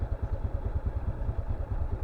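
A motorcycle engine idles close by, its low, steady putter pulsing rapidly and evenly.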